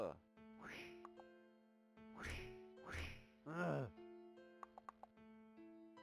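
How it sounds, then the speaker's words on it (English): Crazed ducks in a video game give several distinct, nasal, electronic-sounding quacks in uneven bursts over a steady game hum, followed by a few short clicks. "Oh my god, they are all crazed ducks."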